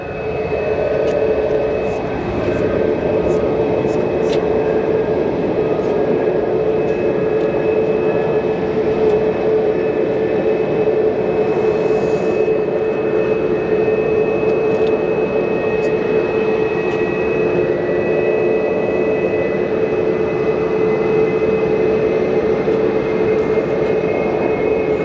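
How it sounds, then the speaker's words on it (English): A Cessna Citation 680 business jet taxiing at Phoenix Sky Harbor Airport gives a loud, steady engine roar with a sustained whine, continuous and close throughout. "There's a 680 Citation taxiing too."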